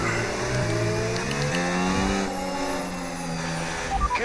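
An F1 race car engine in the F1 2025 game screams up through the gears on a straight, then drops in pitch under braking, close and loud with no talk.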